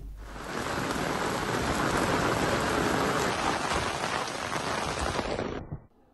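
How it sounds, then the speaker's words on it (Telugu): Heavy rain falls in a city, a dense, steady roar of drops hitting surfaces that holds at an even level for several seconds before cutting off abruptly, with no voices. "ఇక ఇవాళ సిటీలో చాలా ప్రాంతాల్లో వర్షాలు కురిశాయి."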